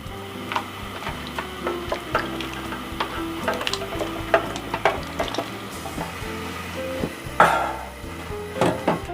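Vegetable lodeh is stirred in a pot with boiled egg, fried tempeh and tofu, producing bubbling and a simmering sizzle under repeated clinks and scrapes of a utensil against the pot.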